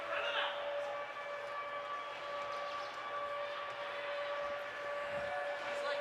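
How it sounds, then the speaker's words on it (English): A sustained siren wails inside an ice hockey arena during a boys' game, a steady high tone held over arena crowd noise, with a lower hum beneath it throughout. "The siren has been going off here at the Central Vermont Memorial Civic Center in this boys game."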